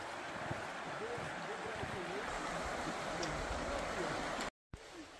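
A river flows through Kościeliska Valley in the winter Tatra Mountains, making a steady, soft, broadband rush of water heard from a short distance. A faint voice is in the background.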